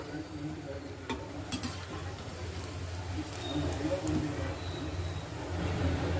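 Alasanda vadas, crispy Rayalaseema-style black-eyed pea fritters, frying in hot oil with a soft continuous sizzle and occasional clicks of a utensil, rising slightly in level, close by.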